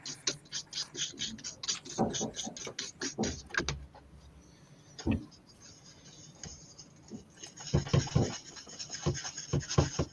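Sandpaper rubbing and scraping over a surface, the paper worn down from hard use, in irregular rasping strokes of varying loudness, with a denser burst of scrubbing near the end.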